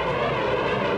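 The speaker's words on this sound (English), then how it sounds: "Here, some of the world's best pilots roar through the skies." Airplanes at Edwards Air Force Base roar overhead in a steady, loud, unbroken rush for about a second, with no other sounds.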